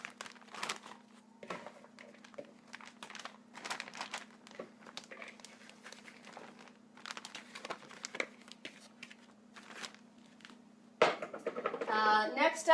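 Plastic freezer bags rustle and crinkle in close handling as handfuls of cut red onion go in, with scattered soft taps and a burst of louder crinkling near the end, over a steady low hum.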